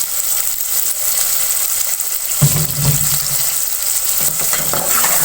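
Chopped capsicum being stirred and mixed in a hot pan, a steady sizzle broken by brief scraping stir sounds, close and fairly loud with no speech.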